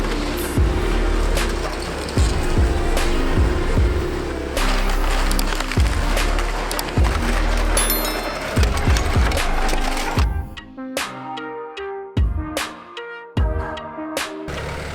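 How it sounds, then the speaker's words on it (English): A 14-ton digger demolishing a house gives heavy crunching and cracking impacts over a dense, rumbling din, then thinner clatter with separate loud thuds and crashes as the pile breaks apart, close by with no talk. "That's the sound of a digger and a house meeting right there."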